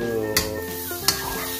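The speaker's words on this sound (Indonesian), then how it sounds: "Aduk oseng-oseng sampai kering." A spicy stir-fry for fried rice sizzles in a pan as it is stirred, with two distinct scrapes of the utensil over a continuous close frying hiss, with no voices.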